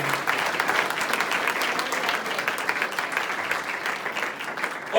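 A church congregation applauds steadily and loudly throughout, dense clapping from many hands sustained without a break.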